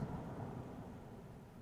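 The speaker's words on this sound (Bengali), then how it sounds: "রাত হলো বৃষ্টি এখনো ঝরছে ঝড় এখনো গর্জন করছে" A thunderstorm with rain at night as a story sound effect: a low, faint rumble of thunder rolling under a soft wash of rain, brief and distant with no voices.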